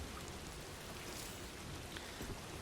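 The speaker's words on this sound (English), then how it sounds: "Oh, it's raining." Steady rain pours down in the Death Stranding 2 game world, a dense, even hiss of falling water filling the whole stretch without pause, close and continuous with no voices over it.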